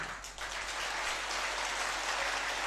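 Steady, dense clapping of many hands, loud and continuous like applause, with no talking.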